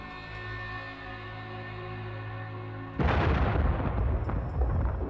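The Little David muzzle-loading super gun fires a 3,700-pound bomb, a sudden loud, broad roar that bursts in midway over a steady tonal background hum and rumbles on for the rest of the clip.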